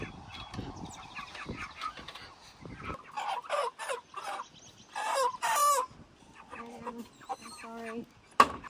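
Backyard meat chickens cluck and squawk in short, irregular bursts close by, with quiet gaps between calls.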